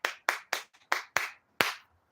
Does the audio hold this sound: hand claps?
yes